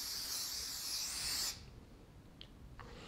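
Makeup setting spray misted from a bottle in one steady, close hiss lasting about a second and a half, then stopping and leaving a quiet room with a couple of faint clicks.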